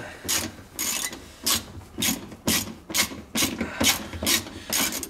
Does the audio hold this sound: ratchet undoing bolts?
yes